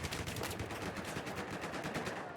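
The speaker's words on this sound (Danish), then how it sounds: "nu bliver jeg skudt bagfra" Rapid automatic gunfire in a multiplayer shooter video game sounds as a dense, continuous burst of sharp reports lasting a couple of seconds, loud and close, with no talking.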